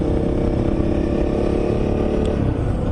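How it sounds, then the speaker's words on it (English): Honda CRF motorcycles riding on back roads in Ubon Ratchathani, Thailand, a steady close engine drone with wind rush and no talk. "we're riding on our CRFs today"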